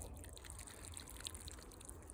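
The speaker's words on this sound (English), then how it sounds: "give them a bit of water at the top." Water trickling from the top of a strawberry tower and dripping down through the stacked pots, a faint, soft splashing with scattered small drips and no voices.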